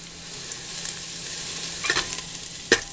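Onion, green chili and ginger fry in a pan for a lauki and chana dal dish, a soft continuous sizzle broken by a few sharp scraping stir strokes near the end.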